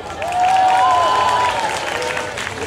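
Audience clapping at a Kamehameha imitation contest, a steady round of applause lasting the whole moment, with a few voices calling over it.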